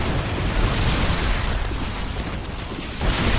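Seeker missile blasts and Banshee and siege tank attacks in a StarCraft II Zerg versus Terran match at BlizzCon, a dense, continuous roar of overlapping booms and bursts with a small surge near the end.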